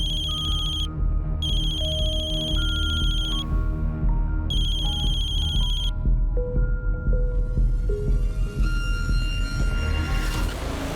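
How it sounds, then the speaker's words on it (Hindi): Mobile phone ringtone playing loud and steady for the whole span, a repeating electronic melody with layered tones and pulsing bursts, alone with no talk, heard during a Hindi true-crime drama scene. "तुम्हें जब भी इसका फोन आता है तुम फोन काट देते हो"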